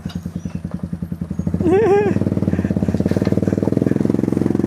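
A motorcycle engine putters nearby with a steady thumping pulse, revving briefly before settling into a faster idle; a voice briefly rises over it.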